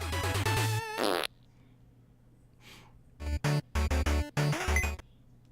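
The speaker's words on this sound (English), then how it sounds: "that little dance and fart at the end is like the worst it gets" A cartoonish fart caps a short dance in the video game Sigi: A Fart for Melusina, loud stuttering bursts after musical jingle notes, with several distinct blasts near the end.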